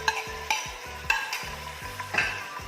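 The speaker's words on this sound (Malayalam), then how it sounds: "ഒരു സവാള ചെറുതായിട്ട് കട്ട് ചെയ്തതാണ് അത് ഇതിലോട്ടേക്ക് ആഡ് ചെയ്ത് കൊടുക്കാം" Finely chopped onion fries in hot ghee and coconut oil for prawn biryani, a steady sizzle broken by a few distinct, rhythmic scrapes and clinks of a spatula against the pan, near and without speech.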